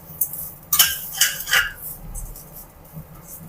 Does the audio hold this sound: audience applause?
no